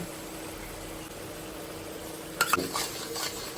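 Masala of onion paste, ginger-garlic paste, cumin seeds, dried chillies and bay leaf frying in hot oil for mutton biryani: a steady close sizzle, broken near the end by a few clanks and scrapes of a spoon against the pan.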